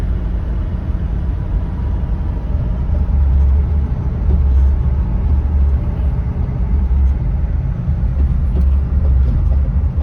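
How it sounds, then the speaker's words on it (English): A car drives along with a loud, steady low engine rumble and road drone filling the whole stretch, heard from inside the vehicle with no talking. "Me and Liberty and Sage are piled in the car right now."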